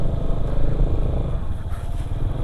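An automatic scooter rides and turns across the Bromo sand sea, its engine running loud and close with a rough, steady drone and clattering over the sandy ground.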